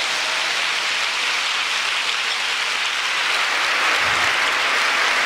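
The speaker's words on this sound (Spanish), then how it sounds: "Dale un aplauso al Señor." Steady, hissing wash of church congregation applause, dense and continuous like rainfall, moderately loud and unbroken by talk.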